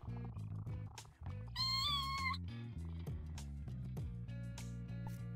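A cat in the video game No More Heroes gives one clear, drawn-out meow over a steady game soundtrack, with softer mewing sounds after it.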